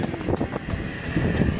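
Gusty wind buffeting a microphone outdoors, loud low rumbling bursts that swell and fade unevenly, alone with no voices.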